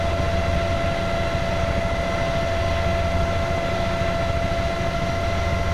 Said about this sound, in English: Okay, ready for takeoff.